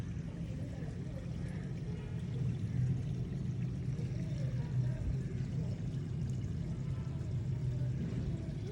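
Water pours steadily while a garden is being watered and a basin fills, making a continuous low gushing rumble. It stays at an even level throughout, with no voices heard.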